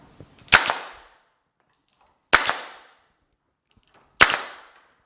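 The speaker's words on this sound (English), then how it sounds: "I've got a nail gun, so I'm just gonna put one in real quick" A nail gun fires into a wooden crate three times, each a sharp, loud, close bang with a short ringing tail, spaced roughly two seconds apart.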